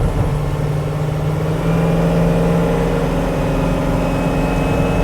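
A 1972 Chevy K10 4x4 short-bed truck with a 6.0L LS V8 accelerating, a loud, close, steady engine rumble building in pitch, heard from inside the cab with no talking.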